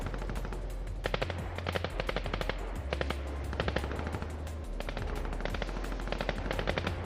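Rapid automatic gunfire from the mobile version of Fortnite, with repeated bursts of shots crackling steadily throughout and no voices.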